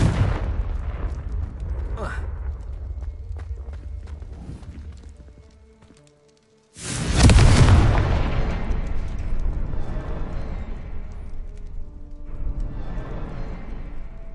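Confringo fire spell blasts in the video game Hogwarts Legacy: a sudden loud burst after a brief hush, trailing into a rumbling roar, set amid ongoing game noise with clattering and thuds.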